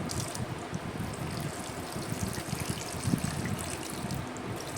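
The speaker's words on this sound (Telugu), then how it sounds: "ఇప్పుడు నేను ఇందులో కొన్ని పాలు వేసుకుంటున్నాను బెల్లం కరగడం కోసం" Milk pours into pounded black pepper and jaggery for a sweet, a continuous soft liquid trickle and splash at close range, steady throughout with no talking.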